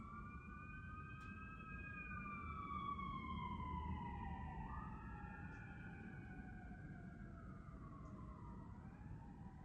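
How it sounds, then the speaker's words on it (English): Emergency vehicle sirens wail in the distance, several overlapping rising and falling tones that drift and cross each other over a steady low rumble of traffic, faint and far off. "Don't mind any sirens."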